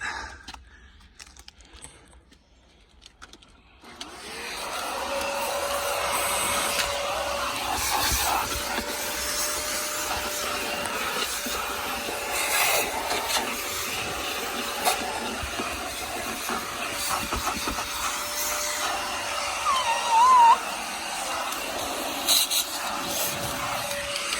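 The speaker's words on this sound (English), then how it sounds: "y'all don't want to hear me vacuum or watch me vacuum, do you?" After a few quiet seconds, a steady loud whirring hiss of a vacuum cleaner runs continuously, with small fluctuations as it moves over the carpet of a Honda S2000.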